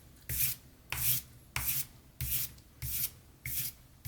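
A thin utility knife blade is stroked back and forth on 2000 grit abrasive, making seven steady, evenly spaced gritty scrapes, close and clear, with no talk.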